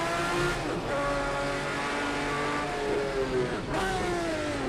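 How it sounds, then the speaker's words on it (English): Group C prototype race cars, Nissan against Jaguar, in the Project CARS 2 game at the Algarve circuit, roar continuously at high revs, with engine notes rising through gear changes and a brief dip near the end. "Group C racing, Nissan versus Jaguar"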